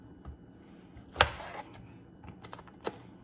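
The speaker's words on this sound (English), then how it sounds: "just cut it in half, okay?" A knife cuts tofu puffs in half on a board, a few sharp light taps and thuds spaced out, one clearly louder, close and quiet with no talk.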